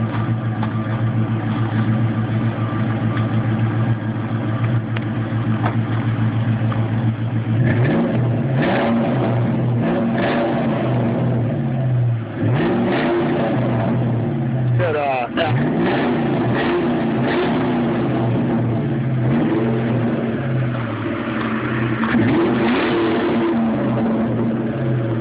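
Car fitted with an aftermarket exhaust revs close by: a deep, steady idle rumble swells into repeated throttle blips, with the loudest revving around the middle.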